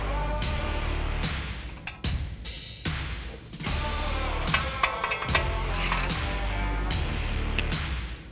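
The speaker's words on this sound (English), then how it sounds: "So we're going to grab our deep well again and go ahead and loosen these." Ratchet with a deep well socket loosening 18mm strut nuts while a factory strut's top hat and bottom mount come off a 2019-2023 Ford Ranger, giving steady close mechanical clicking in bursts with short pauses between, no talk.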